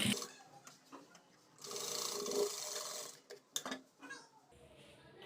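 A sewing machine stitching a saree blouse runs in a quiet, clattering burst of rapid needle strokes, with shorter, softer stitching spurts and pauses around it.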